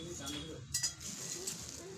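Potato fry stirred in a pan with a utensil, a few light metallic clinks and scrapes near the middle over a steady background hiss, faint and close.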